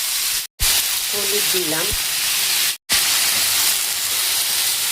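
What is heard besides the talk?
vegetables sizzling as they are added to hot oil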